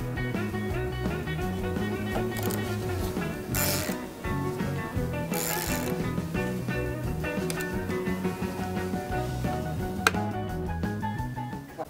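On a Honda Pilot, the fastener on a battery cable terminal is tightened with a ratcheting tool, giving a run of quick clicking and mechanical ticking at close range over a continuous background hum.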